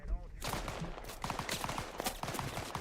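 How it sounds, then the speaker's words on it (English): Mortar fire in the video game Arma 3, night bocage fighting on an 8 by 8 kilometre map: a steady wash of distant booms and crackling gunfire, with voices talking over it. "that's mortar down there"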